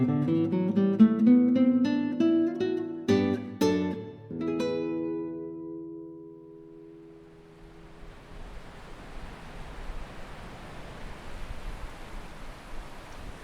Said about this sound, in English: That's the sound of the River Dee,